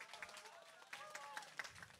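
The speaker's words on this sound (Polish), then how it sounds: "Jeszcze raz głośne brawa." Audience applause after a police demonstration at a youth internal security festival at WSPiA university, quick dense clapping from a crowd, fairly faint with speech mixed in.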